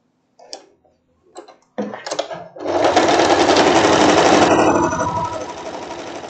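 A sewing machine stitches floral fabric for a wrap dress, starting with a few soft clicks and short bursts before settling into a fast, steady mechanical chatter that eases off slightly toward the end.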